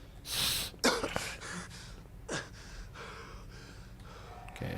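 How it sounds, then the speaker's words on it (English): A character in the Fallout 4 video game breathes heavily, with a few sharp gasping inhales and exhales spaced out over several seconds, close and fairly quiet. "Heavy breathing."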